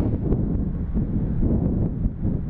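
Strong storm winds lash the Western European coast during Storm Fabien, a close, loud, rough roar of gusts buffeting the microphone without a break, with no voices.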